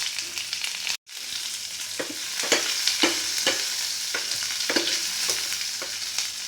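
Onion and green chilies sizzle and hiss in hot oil in a dal tempering with cumin and curry leaves, a steady close frying noise broken by a brief cut near the start and punctuated by repeated stirring scrapes.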